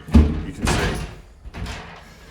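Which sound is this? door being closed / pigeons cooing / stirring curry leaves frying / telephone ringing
door being closed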